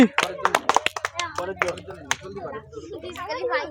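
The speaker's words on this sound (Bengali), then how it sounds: "জোরে সকলে হাততালি" A group claps for a contestant at a children's pot-breaking game, with a quick burst of close, loud handclaps at the start that gives way to voices talking.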